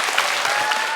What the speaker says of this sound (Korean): 방송인 타일러 씨께 다시 한번 큰 박수 부탁드릴게요